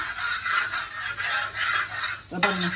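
Idli pieces toast in melted butter on a dosa griddle, a steady bright sizzle in pulsing waves, then a sharp metallic clink from a utensil near the end.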